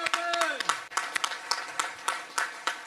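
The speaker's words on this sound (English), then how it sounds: "Big round of applause." Scattered audience clapping at a Marine Corps air station legacy event, sharp individual claps in an uneven rhythm, fairly close, with a voice briefly heard at the start.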